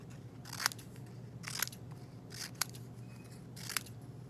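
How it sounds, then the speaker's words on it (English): Scissors snip through folded construction paper in four separate crisp cuts, each a short crunchy burst with a sharp click at its close, spaced about a second apart over a steady low hum. "and start cutting out strips."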